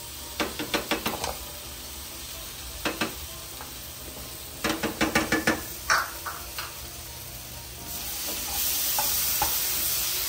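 Sizzling tofu mixed with mayonnaise in a hot pan, with a soft steady sizzle and hiss under several clusters of quick knocking taps as a utensil stirs and scrapes. No talking.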